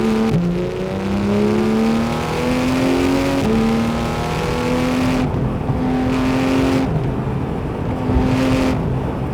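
A sports car with paddle shifters revs hard, its engine note climbing in steady sweeps and dropping at each gear change, loud and close, alone with no talk.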